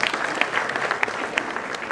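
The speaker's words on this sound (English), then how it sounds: "Let's clap for them." Brisk applause from a crowd at a public university lecture, a lively continuous patter of many hands with a few sharper nearby claps standing out.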